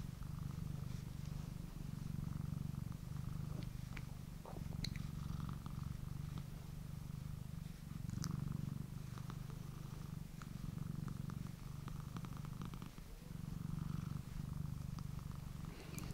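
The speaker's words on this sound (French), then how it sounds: "J'espère qu'on entend bien le ronron." A cat purrs close up in soft, rhythmic waves of low rumbling, each breath cycle swelling and easing over and over, with a few faint rustles and clicks in a quiet room.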